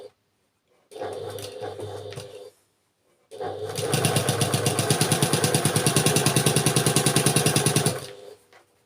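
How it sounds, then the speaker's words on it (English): A sewing machine stitches patterned quilting fabric patches together for a nine-patch block: a short run of rapid mechanical stitching, a pause, then a longer steady rhythmic run, close and loud with no talking. "And sew all the way down the side again. I love this new machine."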